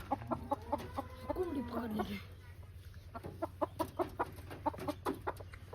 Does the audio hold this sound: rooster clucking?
yes